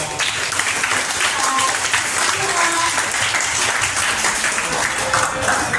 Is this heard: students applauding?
yes